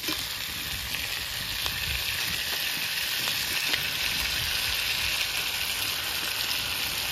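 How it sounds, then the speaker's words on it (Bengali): Fish oil frying with chopped onion and chili in a pan, a loud steady sizzle with continuous bright crackling that holds evenly throughout, close and without any talk. "এরপরে মাছের তেলগুলো দিয়ে দেবো"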